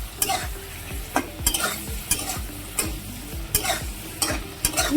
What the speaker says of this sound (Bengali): নুন হলুদ দিয়ে একটু ভেজে নেবো।